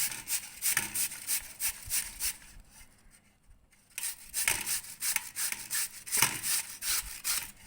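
Chayote being scraped for bonda, a close, rhythmic series of rough rasping strokes, pausing briefly midway before the steady scraping resumes.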